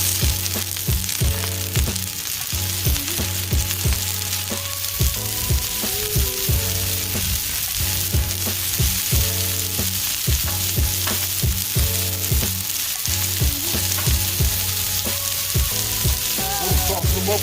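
Frozen peas and carrots sizzle and crackle steadily as they fry for chicken fried rice, with repeated scraping and stirring strokes on the hot surface. The sound is close and continuous, with no talk.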